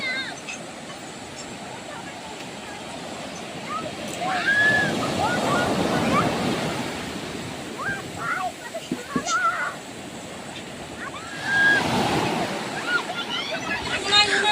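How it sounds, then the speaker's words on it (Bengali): Sea waves break and surge on a beach, swelling loudly near mid-clip and again toward the end, with short chirping sounds scattered over a steady background wash. "সাগরের কাছে এসেছি আর সাগরের জলে একটু পা ভিজাবো না তা তো হয় না"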